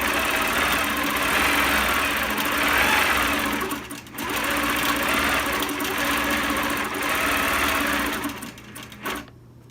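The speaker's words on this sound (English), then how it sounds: "I'm going to touch that record button and then I'm going to stitch the name." An embroidery sewing machine stitching a name, a loud continuous mechanical whir with rapid needle rhythm, briefly pausing near the middle and stopping at the end.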